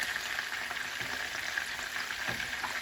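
Greek keftedes meatballs frying in a pan, a steady broadband sizzle with faint soft taps as they are turned with two forks, close and even throughout with no talk.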